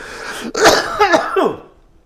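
A close, harsh cough, a quick burst of rough hacking over about a second before trailing off into silence.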